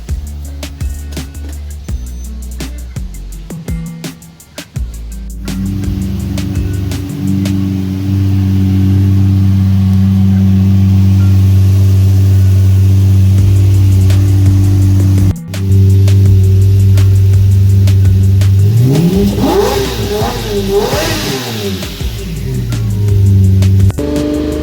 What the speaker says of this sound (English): Doing transmission self-calibration.